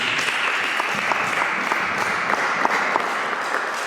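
A church congregation applauds steadily, a dense wash of many hands clapping at full strength from start to finish, filling the room without a break or any audible voices.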